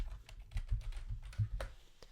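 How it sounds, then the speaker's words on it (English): A computer keyboard being typed on at close range, with a quick run of separate key clicks and taps over about two seconds while a web address is entered. "just open up your browser and type in meta.com/payments"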